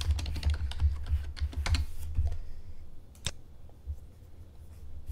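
Keys clatter on a computer keyboard as a password is typed in, a quick run of close, crisp taps for about two seconds, then a few scattered presses trailing off.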